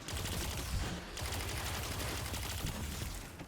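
Rapid gunfire in a Destiny 2 Lost Sector mission, dense crackling bursts of shots that pause briefly near the start and then resume steadily, alone with no talk.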